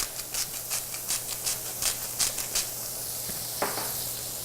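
Bacon-wrapped chicken with jalapeno being stirred in a pan, a light sizzle under a series of quick scraping, rubbing strokes with a steady hum behind, fairly faint and close.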